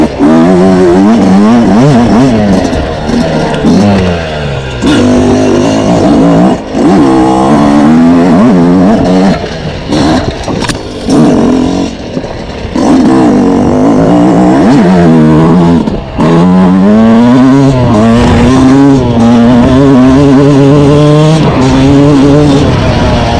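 A 2026 Yamaha YZ125X two-stroke dirt bike rides a trail, its engine loud and close, revving up and down repeatedly with rapid pitch swings as it accelerates out of corners and backs off.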